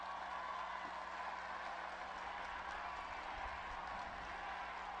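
Steady applause from a crowd at a Mexican presidential social-programs event, a dense continuous wash of clapping at moderate distance with no pauses.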